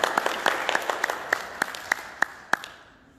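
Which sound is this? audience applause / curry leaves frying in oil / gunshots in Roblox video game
audience applause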